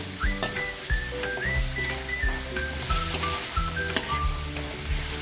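Green papaya sizzles and fries in a pan with ginger for a Filipino pesang fish dish, with steady crackling, stirring scrapes and a faint whistling tone over it.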